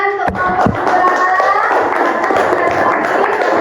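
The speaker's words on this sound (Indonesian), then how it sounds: "Oke, tepuk tangan untuk kelompok 2." A classroom group claps in a brief burst of close, rapid applause under a murmur of voices.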